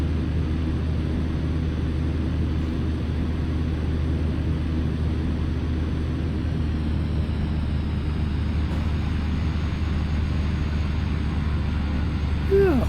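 Aircraft landing in a flight simulator game: a steady, loud engine drone and low rumble hold evenly throughout, with a brief brighter whine rising near the end.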